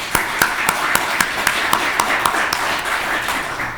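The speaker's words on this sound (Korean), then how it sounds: "우리 귀한 분들을 위해서 박수 한번 보내줄까요?" A church congregation at a Sunday service claps for the worship team in a steady, evenly spaced rhythm, a lively, full-room sound that stays strong throughout.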